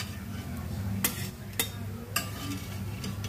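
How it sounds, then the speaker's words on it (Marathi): Alu vadi pieces fry in a pan with a low, steady sizzle, broken by three sharp clicking spatula or utensil knocks against the pan, close up. "अशाच बाकीच्या पण वड्या आपण अशाच फ्राय करून घेऊया"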